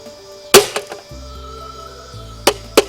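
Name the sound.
speaker being struck, plastic casing hit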